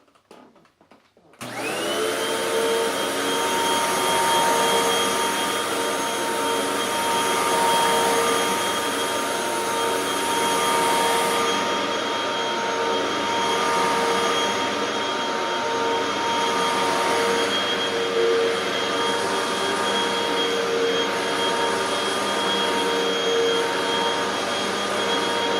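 A Hoover Windtunnel 2 HC Pet upright vacuum cleaner running on carpet sprinkled with baking soda, a loud, steady motor roar with a high whine that starts abruptly and continues unbroken, with slight shifts in tone as it passes.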